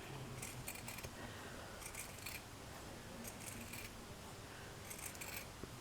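Scissors cut fabric for a shabby chic ruffle flower, giving several short crisp snipping bursts in quick clusters over a steady low room hiss, close and quiet with no talking.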